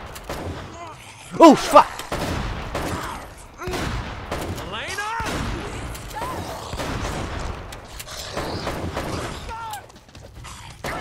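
Gunfire in Uncharted: Drake's Fortune, with a pair of sharp close shots early on followed by scattered bursts of distant firing, under frequent talk from a player.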